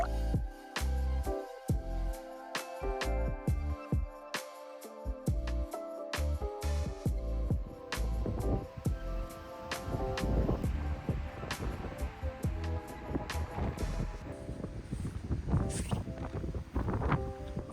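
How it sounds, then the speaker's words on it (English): Gusty wind on a New Zealand coastal walk, buffeting the microphone with steady broadband roar and rustle that swells and drops over about eighteen seconds, with no one speaking. "And here's the wind."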